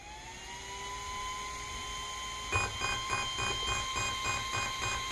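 A steady electronic whine from a micro e-bike's motor controller gives way to a rapid series of short, evenly spaced beeps, close and fairly loud.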